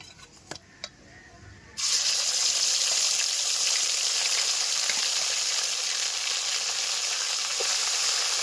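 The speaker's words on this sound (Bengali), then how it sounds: "এবারে তেলের মধ্যে আদা রসুন লঙ্কা কাজু বাদাম ধনেপাতা পেস্টটা দিয়ে দেবো" A ginger, garlic, chili, cashew and coriander paste hits hot oil for an Afghani egg curry, bursting into a loud, steady hissing sizzle. Before that come a few quiet clinks, and the frying then runs on continuously.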